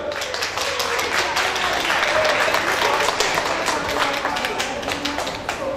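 A concert audience applauds a singer at a Europe Day 2013 event in the Rakvere Kroonikeskus, with sustained, lively clapping that stays fairly loud throughout and has a few sharper individual claps standing out.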